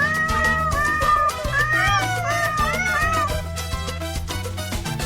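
A cartoon cat sings a run of repeated meows as a melodic line over a steady musical backing with a bass beat, loud and continuous throughout.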